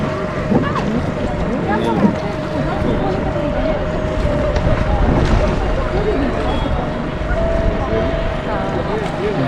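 A boat ferries people and motorbikes across the Narmada river at Gwari Ghat, its steady engine hum running under water wash, wind noise and nearby talk.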